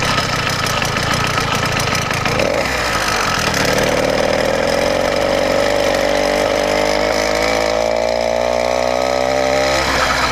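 A newly built 80cc motorized bike engine runs continuously, its loud buzzing drone rising in pitch as it revs up and holding steady near the microphone.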